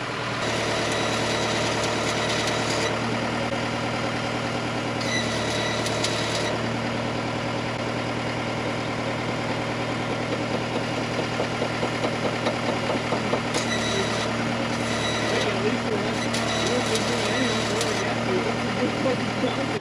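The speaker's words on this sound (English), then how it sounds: "You ramp her up, you get the RPMs up to where you need it" A Range Rover rock crawler's engine idles steadily at close range, a continuous low rumble with a faint knock, broken by a few bursts of higher hiss. A voice talks over parts of it.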